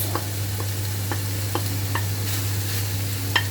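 Onions and peppers sautéing in a pan for chicken börek, a steady soft sizzle with periodic light clicks of stirring, close and alone under a constant low hum.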